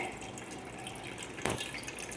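Water is poured for Irani tea in a quiet kitchen: a low steady trickle, then a brief, brighter splash about two-thirds of the way through.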